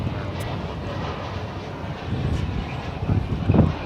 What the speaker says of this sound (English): Next to take off is American Flight 2168 to Ontario, California. It's an Airbus A321.